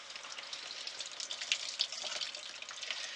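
Tap water runs steadily into a sink while salted napa cabbage is rinsed for kimchi. It is a faint, even wash with small splashes, with no voices.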